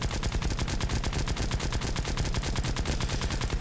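Rapid aircraft machine-gun fire in War Thunder, a dense, continuous rattle of close, loud bursts with no pause throughout.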